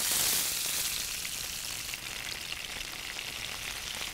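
Onions and green peas fry in oil for a pea kachori stuffing, giving a steady, close sizzle with a crackling hiss that stays level and eases off slightly after the first half second, with no talk.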